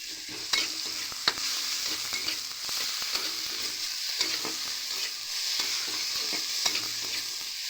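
Cumin seeds sizzling in hot oil for papaya dalna, a steady crackling fry with repeated sharp spoon clicks as they are stirred, close and loud.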